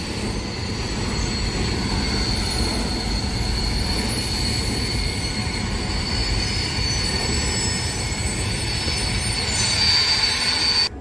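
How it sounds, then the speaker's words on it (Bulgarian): A long freight train rolls past at Karlovo station in a continuous heavy rumble, with high wheel squeal ringing steadily above it, loud and close for the whole stretch with no talk. "Доста дълъг, но по принцип товарните влакове са дълги"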